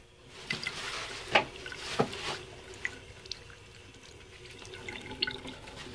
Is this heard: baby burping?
no